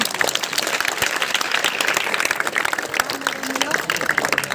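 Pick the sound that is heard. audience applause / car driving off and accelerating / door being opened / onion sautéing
audience applause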